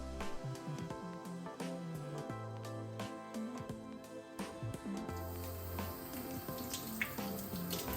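Water runs steadily from a tap with splashing and squishing as a felted wool dryer ball is rinsed, over a continuous bed of background music.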